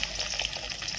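Onions frying in oil in a pan: a dense, even hiss of sizzling, close and steady through the brief moment, with no voices.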